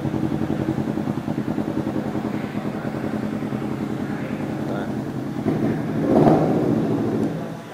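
A 300cc Kawasaki Z300 motorcycle with about 9,000 km on it runs smoothly, its engine a steady, even pulsing drone that swells briefly near the end.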